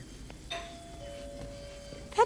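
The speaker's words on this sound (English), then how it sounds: "That doorbell's been broken for years." A broken doorbell rings in an apartment in Spider-Man: Miles Morales, a faint thin tone with a brief burst at the end, set against quiet room ambience and no talk.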